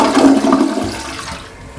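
A toilet flushes loudly and close by, a rushing surge of water that gradually drains and fades over about two seconds.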